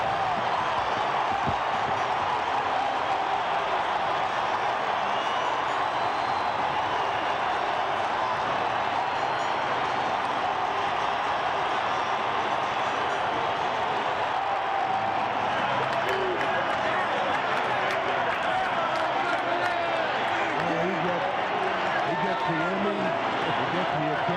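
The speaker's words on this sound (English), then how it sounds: "Listen to the crowd." A large baseball stadium crowd at a St. Louis Cardinals home run roars, cheers and claps in a sustained, far-reaching wash of noise that swells and holds steady.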